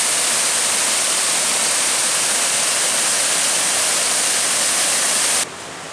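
A waterfall on the Chuck Keiper Trail's West Loop roars as loud, steady broadband rushing water, close and continuous, cutting down slightly just before the end.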